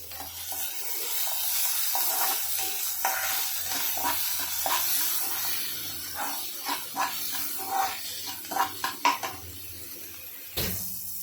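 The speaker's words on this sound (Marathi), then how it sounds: "आता टोमॅटो टाकू कांदा चांगला भाजलाय आहे आपला थोडं मीठ टाकून घेऊया" Onion and tomato frying with salt in a pan, a steady sizzle under repeated scraping stirs and clinks of a utensil against the pan, growing sharper near the end.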